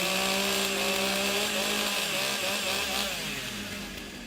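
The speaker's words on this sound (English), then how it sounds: "Warm up the saws." Several chainsaws roar and rev together as they warm up at a timber sports competition, a loud, continuous droning buzz that slowly tapers slightly toward the end.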